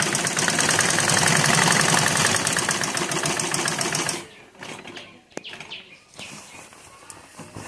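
A sewing machine stitching a six-panel cotton petticoat, running fast and loud in a steady rhythmic whir for about four seconds, then stopping, leaving quieter handling noises and faint clicks.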